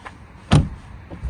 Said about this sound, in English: when I shut the door